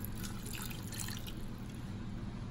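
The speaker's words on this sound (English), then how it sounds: "I'm just adding some more water." Water poured into a pot of brown stew chicken, a steady close trickle and splash running alone for a couple of seconds.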